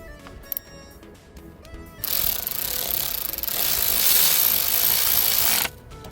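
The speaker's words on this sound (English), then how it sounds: "Now we have to install the bolt." Ratchet driving in a bolt on a Mercedes camshaft position sensor: a few faint clicks, then a loud, rapid, dense ratcheting burst for several seconds, close up, ending abruptly.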